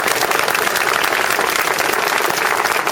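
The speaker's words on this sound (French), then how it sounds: "Et je vous applaudis." Dense, steady applause from a large outdoor crowd at a rally supporting a village mayor, loud and continuous throughout with no talk over it.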